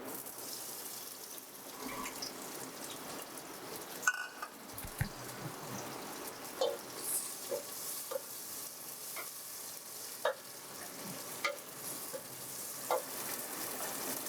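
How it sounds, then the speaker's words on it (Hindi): Chopped tomatoes dropped into hot oil in a pan sizzle steadily, with scattered clinks and stirring knocks over a constant frying hiss; no talking. "इसके बाद फ्लेम को थोड़ा सा बढ़ा के हम इसमें 4 अदद कटे हुए टमाटर शामिल करेंगे।"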